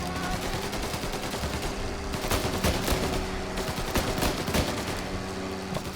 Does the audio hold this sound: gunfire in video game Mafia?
yes